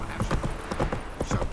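Horse hooves clip-clop in a quick steady trot, several close hoofbeats in rhythm for Roach in The Witcher 3: Wild Hunt, with faint ambient game sound beneath.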